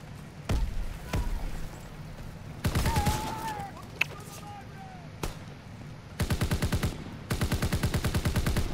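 Video-game gun hip firing: a few single shots, then several rapid full-auto bursts with evenly spaced cracks, loud and close, with brief game sounds in the gaps.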